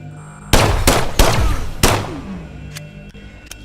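Gunfire at cyborg enemies in the game System Shock Remake: four loud, close shots in an irregular burst, each with a sharp crack and decaying tail, followed by a few fainter distant pops.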